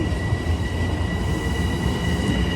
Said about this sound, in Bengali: ট্রেনটি ছেড়ে এখন আস্তে আস্তে চলে যাচ্ছে লং বিচে